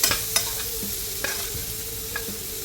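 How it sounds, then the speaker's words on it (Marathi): Finely chopped onion fries over lowered gas heat in a pan, a steady close sizzle broken by several short scraping stirs, with no talking, while making masala pav. "आता मित्रांनो टाकायचं याच्यामध्ये कांदा बारीक चिरलेला गॅस थोडा कमी करून घ्या"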